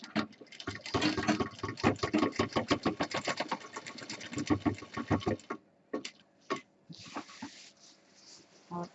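Sewing machine stitches 2-3 passes over a seam joint on a 20-inch medium tour bag, a rapid run of close, loud mechanical clatter for about five seconds, then a few isolated ticks and faint handling.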